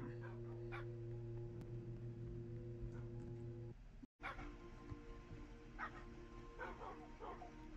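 Dogs in the video game Minecraft bark and yip in scattered short bursts, faint under a steady humming game background with a brief dropout midway.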